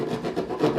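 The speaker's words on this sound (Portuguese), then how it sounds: "Aí você lixa ela só para que ela arredonde." A wooden clothes hanger's corners being sanded by hand, giving short rhythmic rasping strokes, close and fairly loud, repeating back and forth several times with no talking.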